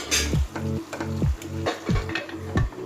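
Mutton and chopped raw banana are stirred in a frying pan, giving repeated scraping strokes about every half second over a steady sizzle, with no talking.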